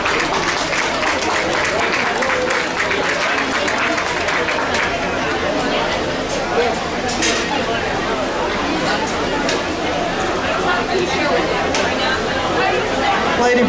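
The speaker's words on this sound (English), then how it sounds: "you guys need to give them a round of applause and thank them for their work" A crowd at a youth and open swine breeding show applauds the volunteer staff, steady clapping blended with chatter and murmuring voices in a noisy arena, loud and continuous.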